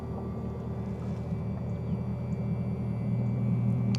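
A bass boat's outboard engine trim motor tilting the engine down, producing a steady low electric hum and drone that holds level and swells slightly toward the end.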